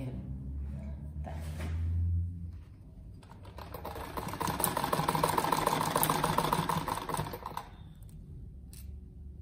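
A home sewing machine runs a fast, steady rattling stitch through fabric for a cat-shaped door stop, starting after a quiet low hum and stopping cleanly near the end.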